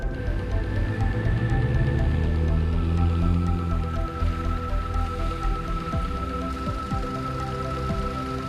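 A 4WD vehicle pushes through a water crossing on a rough Tasmanian track, with steady splashing and dripping over the low engine rumble, close and continuous, no talk.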